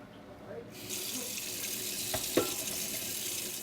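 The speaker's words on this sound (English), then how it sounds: "So I'm going to fill the pot 3/4 full with water." Tap water pours into a cooking pot, filling it about three-quarters full for spaghetti, a steady close rushing splash that starts suddenly and runs evenly, with a couple of brief knocks.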